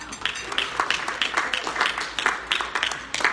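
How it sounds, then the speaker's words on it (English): Rotary Club of Tucson members applaud themselves at their meeting, a dense round of many hands clapping with uneven bursts and peaks, fairly close and sustained throughout. "Give yourself a big round of applause."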